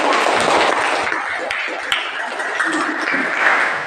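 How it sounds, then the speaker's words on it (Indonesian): Classroom applause for a student discussion group: a broad, continuous patter of many hands clapping for about four seconds, fairly loud and close, with a few sharper claps standing out. "Tepuk tangan untuk kelompok"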